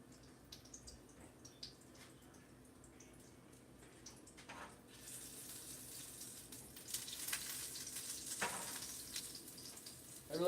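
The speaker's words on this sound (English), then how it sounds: "A little lonely meatball frying over there." A single meatball fries in oil with a faint, steady sizzle and crackle, quiet and continuous, with occasional light clatter in a home kitchen.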